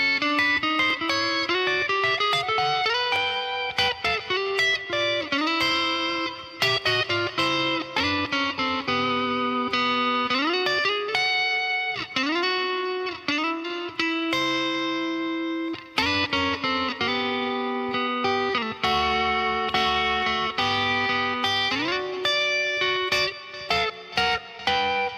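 An electric guitar plays blues double stops, two notes struck together in a flowing lick with bends and slides, close and sustained with distortion and some reverb, alone with no talking for about 25 seconds.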